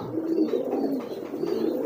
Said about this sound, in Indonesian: Terus ini ada merpati baru, teman-teman.